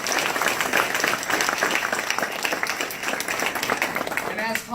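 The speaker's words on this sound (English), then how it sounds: "let's give a round of applause for all of the faculty and staff in UW Stevens Point" Audience applause for university faculty and staff at UW Stevens Point fills the space as steady, dense clapping throughout, with a voice briefly audible near the end.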